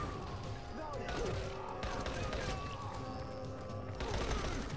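Gunfire rattles in the video game Dying Light The Following as rapid, repeated shots and bursts over a busy game soundscape, with a person talking throughout.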